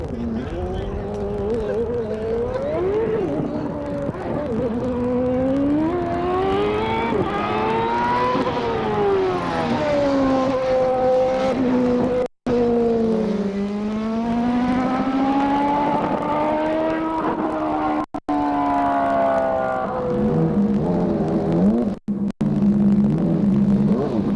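An IndyCar race car lapping a track, its engine note sweeping up and down continuously and loudly as it accelerates and brakes through corners, with a few brief dropouts.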